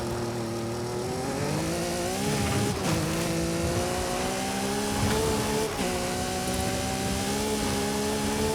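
Car engine in Forza Horizon 5, played on a Thrustmaster T248 wheel, revs steadily with rising and falling tone and a few brief shifts, loud and continuous with no talk.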